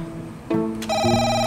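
A telephone rings inside a game, a loud, close electronic ring with a short rising tone that breaks into a sustained buzzing trill.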